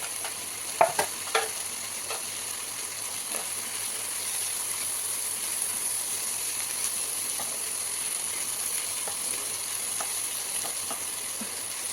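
Ginger and green chili frying in a pan give a steady, even sizzle throughout, with a few sharp clinks of a utensil near the start.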